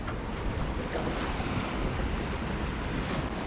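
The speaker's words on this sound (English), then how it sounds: "the water's still pretty choppy." Choppy water slapping around a pier on a windy night, a constant rushing wash of waves blended with heavy wind noise on the microphone, steady and fairly loud with no voices.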